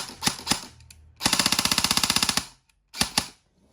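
An E&C MK18 airsoft rifle fires close and loud: two single shots, then a rapid full-auto burst of about sixteen rounds, and two more single shots at the end.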